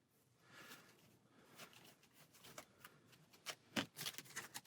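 A deck of Marvel Champions game cards being shuffled by hand, close and quiet, with soft riffling and snapping flicks that grow busier and louder toward the end.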